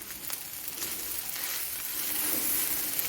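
Steady sizzling and scraping of egg fried rice being stirred in a hot wok, continuous and fairly close, growing slightly louder toward the end.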